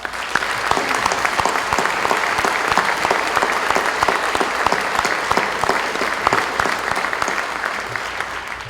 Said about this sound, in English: can we all have a little congratulation applause for the recent graduate of the U.S. Naval War College